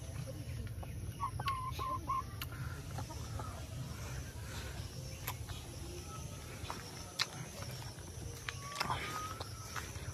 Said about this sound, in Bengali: দেখো মুরগি।